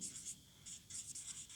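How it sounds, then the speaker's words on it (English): Marker or pen strokes on a board or paper during a chemistry lesson, several quick scratchy bursts in an uneven rhythm, close and fairly soft, with no talking during the strokes. "So you will write like this way"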